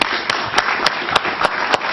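Studio audience applause for a guest on a Spanish-language evening talk show, a dense steady wash of clapping with sharper peaks recurring roughly every quarter second, fairly close and continuous for the whole stretch.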